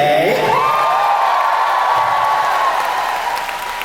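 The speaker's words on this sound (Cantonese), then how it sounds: "所以好多謝你在座嘅每一位啦，俾啲掌聲自己" A concert crowd at a live show in Macau applauds and cheers in a broad, sustained wash of clapping with a high held tone running through it, fading slightly toward the end.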